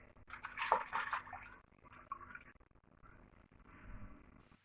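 Milk poured into a bowl of pancake wet ingredients with melted butter, a short splashing stream near the start that fades into quieter dribbles and faint handling noise.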